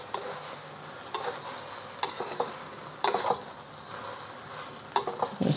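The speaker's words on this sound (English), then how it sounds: "I'm gonna stir this around until we get that." Rice is stirred through hot oil with dried shrimp, dried scallop and green onion, a steady frying sizzle broken by a spoon or spatula scraping the pan at roughly one-second intervals, close and fairly quiet.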